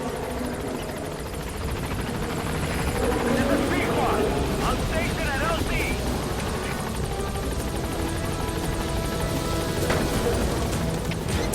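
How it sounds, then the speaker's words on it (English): A helicopter in the video game Metal Gear Solid V: The Phantom Pain whirs with a continuous rotor drone that swells louder after a few seconds, while a person talks over it throughout. "And so here's our helicopter."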